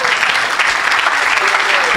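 A church congregation bursts into loud, sustained applause and cheering in praise, a dense roar of clapping filling the whole moment without pause.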